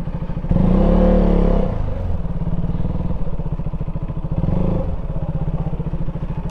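A motorcycle in poor condition idling close by with a rough, chugging engine note that swells briefly into a louder rev near the start and again later, with rattling throughout.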